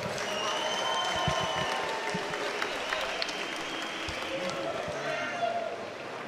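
Steady applause from a large crowd at an amateur MMA event fills the space, with scattered cheers and a voice speaking over it.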